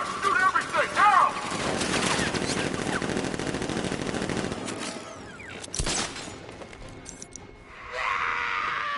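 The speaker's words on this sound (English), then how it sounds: "Open fire! Shoot everything! Now!" Sustained machine gun fire in the Batman Arkham Knight action game, a dense rapid rattle of shots filling several seconds, followed by a heavy impact and mechanical noise.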